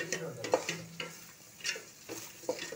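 Puffed rice being sautéed in a large kadai, with a spoon scraping and stirring in several bursts over a soft, steady sizzle, close and moderately loud with no talking.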